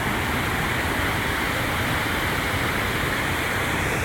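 Waterfall at Yaremcha: a steady, dense roar of falling water, loud and constant throughout with no breaks.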